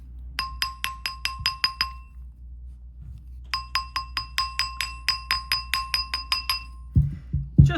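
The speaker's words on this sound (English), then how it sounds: "So this is when I come in with my hammer." Rapid metallic taps ring out in two clear runs of bright, regular strikes, a small hammer tapping a wire-wrapped ring up close, then a few duller knocks.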